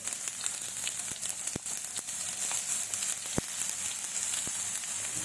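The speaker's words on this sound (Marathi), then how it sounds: "हे मास वाटत या तेलावरती चांगलं भाजून घ्यायचं आहे" Spice paste frying in hot oil for traditional Maharashtrian patvadi, giving a steady close sizzle with a few sharp pops and crackles.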